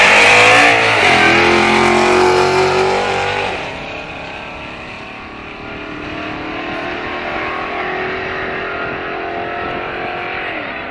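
A V8 Dodge Charger and a V6 Camaro launch down a drag strip, one engine revving hard and loud close by, then fading into a distant, steady rising drone as the cars pull away.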